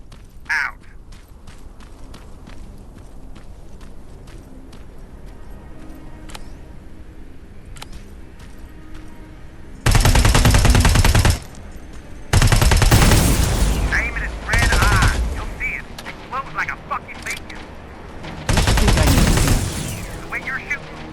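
Bursts of heavy gunfire ring out in Terminator Resistance on PS5, several loud volleys in the second half following quieter clicks and background sounds, with some talk nearby.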